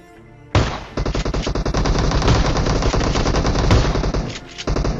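Loud gunfire in the video game PUBG at Georgopol, a sustained burst of rapid automatic shots lasting several seconds, with a brief break and then more fire.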